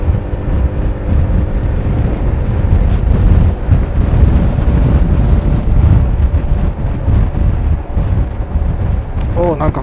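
Wind roars and buffets past a rider on a Honda Forza scooter cruising along an expressway, a loud, steady, close rush that never lets up.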